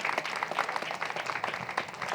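Applause from an audience at a Pyramid Party of India meeting, a steady dense patter of many hands clapping throughout, moderately loud and continuous.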